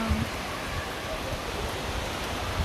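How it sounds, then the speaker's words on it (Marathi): Rain starts to fall outdoors as a broad, steady wash of soft noise, even and continuous, with a faint low voice briefly at the start. "पाऊस चालू झाला"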